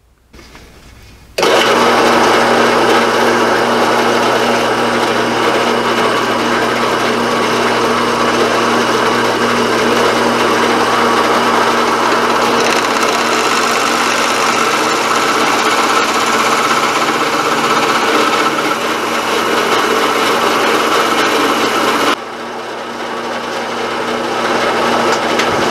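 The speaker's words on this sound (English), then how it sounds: "So this is what it looks like as soon as it comes out of the drill press." A drill press bores holes in pipe with a fastener bit, a loud steady whirring grind that starts abruptly after a quiet moment, holds nearly unchanged for about twenty seconds, then drops away.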